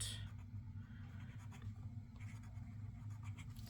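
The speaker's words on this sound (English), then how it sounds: "I'm just going to write myself a note to do that" A pen scratches out a short note on paper in a quiet room, with faint, close, irregular strokes over a low steady background hum and no speech.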